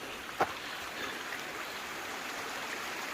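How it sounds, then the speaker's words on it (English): A small waterfall on a mountain hiking track gives a soft, steady rushing of water, faint and distant, with one brief sharp knock near the start. "There we go, little waterfall."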